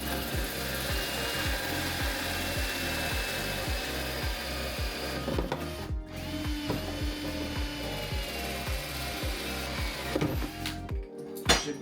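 A Milwaukee power drill grinds steadily through material up close, drilling holes, with rapid repetitive pulsing and a brief pause before it winds down near the end.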